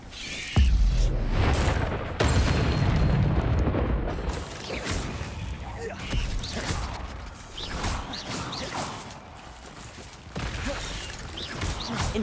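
Spellcasting in the Hogwarts Legacy video game, with the disarming spell Expelliarmus among the effects: a sudden booming burst opens a dense, loud mix of magical impacts and crackles that rumble on and fade slightly, with quieter bursts following.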